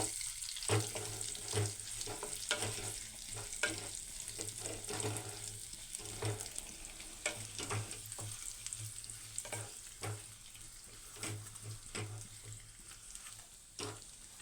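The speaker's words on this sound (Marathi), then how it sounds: "हे कारले आपल्याला सुरुवातीला तेलावरती छान असे परतून घ्यायचे आहे" Stuffed bitter gourd fries in oil in a pan, giving a soft, continuous sizzle with occasional clinks and scrapes from stirring, fairly faint and close, with no talking.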